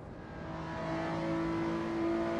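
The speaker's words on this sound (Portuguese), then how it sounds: "Olha o carro do Zóio andando mais que o meu, ó." A Lotus Evora S Stage 2 in the Assetto Corsa racing game revs steadily upward, its engine note holding a rising tone that climbs gradually and keeps swelling in loudness, with no talk.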